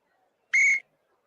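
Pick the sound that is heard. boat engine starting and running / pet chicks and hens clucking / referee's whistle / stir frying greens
referee's whistle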